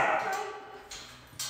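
Dogs in a training class, with short yips and barks ringing out in a few separate bursts at moderate distance, over a steady room background; no talking.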